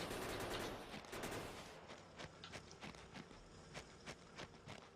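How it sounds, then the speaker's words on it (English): Rapid bursts of gunfire from a defensive gun turret in the factory-building game Factorio, crackling loudly at first and then settling into repeated short volleys at a moderate distance, with no talk over it. "why don't we just put down a turret and let the turret deal with that"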